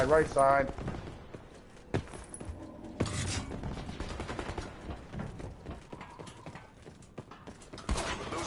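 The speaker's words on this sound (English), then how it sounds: "Oh, they're shooting shots. Shots fired." Gunfire in a shooter video game during a live stream: loud bursts of shots and rapid fire mixed with mechanical clatter and other game sounds, several sharp volleys spread across the stretch.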